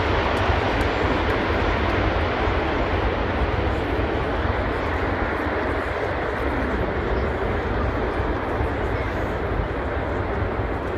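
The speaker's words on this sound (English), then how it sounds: "you're going to see a very agile flight display by the A400M" An Airbus A400M military transport turboprop performing an agile flying display at the Farnborough air show, a loud continuous roar of engines filling the air steadily throughout.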